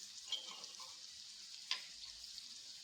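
Finely chopped onion fries in a pan with a steady, soft sizzle, broken by a couple of sharp pops and a faint stir. The sound is quiet and close, with no one talking.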